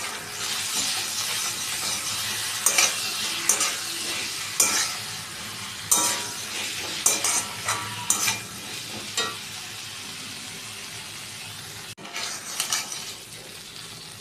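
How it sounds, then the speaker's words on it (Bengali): Ground paste of cumin, coriander, two ripe chilies and turmeric sizzles in a hot pan, with steady frying hiss and repeated spoon scrapes and stirring knocks at close range, no voices. "মশলা কষানো হয়ে গেছে"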